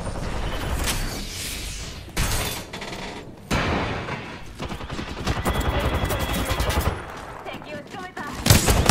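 Bursts of automatic gunfire from an Apex Legends firefight hammer out in loud, close volleys separated by short gaps, with a crisp shatter-like crack among them and game sounds around.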